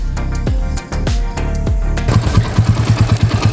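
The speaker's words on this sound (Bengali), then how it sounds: "এটার মধ্যে এক্সট্রা একটা সাউন্ড হচ্ছে তো এই সাউন্ডটা হচ্ছে টাইমিং চেনের" A 160 cc TVS Apache RTR motorcycle with a faulty timing chain is cranked and starts, a few loud starter bursts giving way to a rapid, uneven idle with a rattling, ticking pulse, close up.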